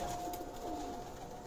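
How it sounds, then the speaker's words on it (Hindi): Veshi breed pigeons coo softly from a rooftop loft, a faint, steady murmur of cooing throughout with no voices. "ये जी आपके वेशी कबूतर आ गए।"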